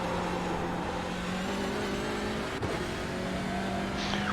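A Porsche race car engine on the Nürburgring in an endurance racing video game drones steadily and loudly at a constant pitch throughout, with a brief dip partway through.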